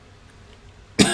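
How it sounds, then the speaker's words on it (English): A single sharp, close cough bursts out after a second of near-silence during a live gaming session and trails off into a rough, breathy rasp. "Excuse the coughing, by the way."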